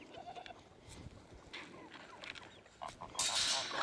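Goat bleating outdoors on a farm, a few short, wavering calls scattered across the moment, fairly close, over faint background noise.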